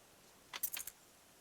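Keys jangle briefly against a lock in the video game Octopath Traveler 2, a short bright metallic clinking burst of several quick rattles, alone over faint background.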